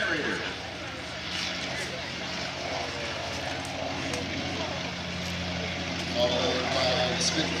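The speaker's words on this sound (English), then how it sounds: "There goes the Skyraider." A Douglas Skyraider flies past at an airshow, its broad propeller-engine roar holding steady and fairly loud for several seconds while spectators talk nearby.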